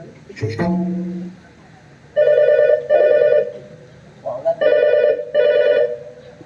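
A telephone rings in four bursts of electronic trilling, two close together then two more after a pause, with a brief voice and clatter at the start.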